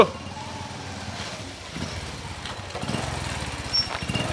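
A motorcycle engine idles and grows nearer, its low, steady putter turning into louder, rougher bursts toward the end, with faint background ambience.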